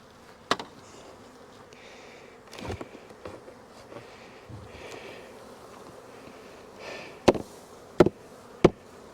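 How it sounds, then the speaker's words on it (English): Honey bees humming faintly around an open Demaree hive in April, a soft continuous drone broken by several sharp knocks and clunks from handling the hive. "we got good bee population up here"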